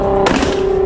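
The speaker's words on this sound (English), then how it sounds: "The gunshots this thing puts off are just fucking absurd." Nissan GT-R exhaust backfire, a loud sharp pop near the start followed by a rough rumbling crackle, heard up close over a steady high engine drone.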